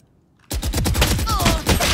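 After a brief quiet, loud, rapid gunfire erupts in the shooter game Valorant and continues as a dense fusillade of sharp repeated shots to the end.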